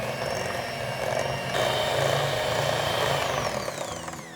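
Electric hand mixer beaters whirring steadily through fruit tart filling, a continuous motor whine with buzzing overtones that holds level for several seconds then eases slightly toward the end.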